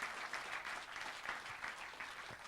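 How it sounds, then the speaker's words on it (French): A village audience applauds the mayor during a local televised campaign event in Saint-Trivier-de-Courtes, with steady, moderately distant clapping that holds evenly throughout. "Eh bien, on peut applaudir."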